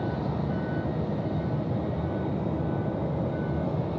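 A Jetstar plane takes off at night at Sydney Airport, a steady broad jet roar rumbling at moderate distance with no break across the moment.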